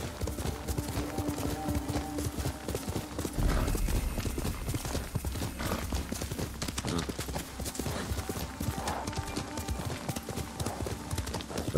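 Rapid, rhythmic clip-clop of a horse's hooves while riding in the samurai video game Ghost of Tsushima, steady and continuous at moderate volume, with a brief whinny and game ambience underneath.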